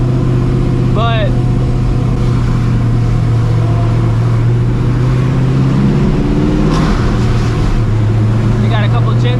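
A cammed, Procharged 600hp 1999 Ford Mustang GT drives at night, its engine droning loud and steady with rising revs near the end, and a voice speaks briefly over it.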